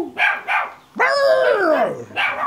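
Dogs barking close by in a short burst of sharp barks, then one long rising-and-falling yelp or howl, followed by another bark.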